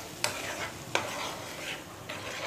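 Green chilli sauce stirred in a pan with sugar and salt, giving a soft steady scraping hiss with a few sharper spoon clicks against the pan, close and fairly quiet.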